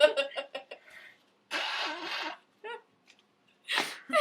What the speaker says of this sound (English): I'm gonna sneeze on you.